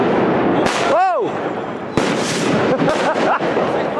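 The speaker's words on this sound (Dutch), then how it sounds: "Was een massa-explosie." A mass explosion of fireworks and firecrackers in Valencia: loud close bursts, a whistling rocket rising and falling, then sharp bangs and crackling volleys, with people's voices around.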